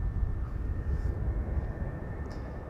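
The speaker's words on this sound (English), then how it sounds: "the third airplane now approaching is coming in from Scotland" Airliner approaching to land at Amsterdam Schiphol, a steady broad engine roar that stays loud and constant, heard alone with no talk.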